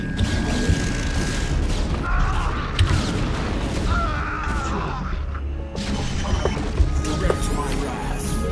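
Tanks fire in a StarCraft battle, booming shots and crashing impacts scattered over a busy mechanical battle din and game music.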